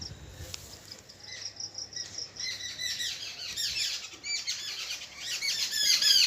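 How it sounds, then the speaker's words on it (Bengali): Many small birds twitter and chirp near flowering plants on a morning, dense overlapping calls that grow busier and louder toward the end, with a faint low hum underneath early on. "শুনতে পাচ্ছে পাখিদের কি সুন্দর কিচিরমিচির শব্দ হচ্ছে।"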